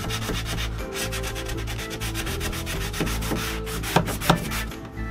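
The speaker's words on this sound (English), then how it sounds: "you must do this, you must sand." Steady, rhythmic sanding of water-damaged teak wood on a boat, a continuous rasping rub with a few knocks near the end, close and fairly loud.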